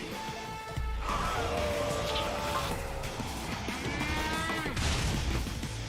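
Cattle mooing in the game Metal Gear Rising: Revengeance, several long, loud bellowing moos layered over a constant rumbling game soundscape with occasional crashes.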